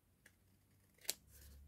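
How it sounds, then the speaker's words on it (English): Quiet snips of scissors cutting paper: a light click, then a sharper cut a moment later, in an otherwise still room. "I'm just going to get a pair of scissors and just trim that little extra"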